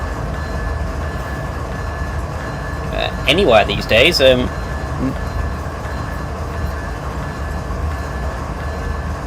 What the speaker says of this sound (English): street running train traffic